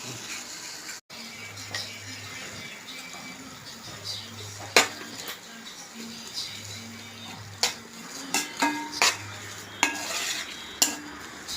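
A kadai set on the stove with oil for fish curry, heard as repeated metal clinks and scrapes of a utensil stirring against the pan, with faint sizzling underneath and a low hum in the background.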